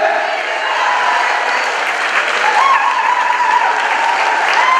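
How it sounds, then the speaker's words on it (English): Guests at a museum grand opening with Cape Verde's president applaud him in a loud, sustained wash of clapping, with a few voices calling out over it. "let's give him a round of applause to our president"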